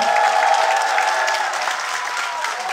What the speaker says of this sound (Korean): 박수가 안 나오나요?